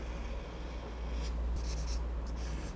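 Brush or pen strokes laying India ink onto paper for a manga drawing, a soft continuous scratchy rubbing with a few brighter swishes, close and quiet, with no voices.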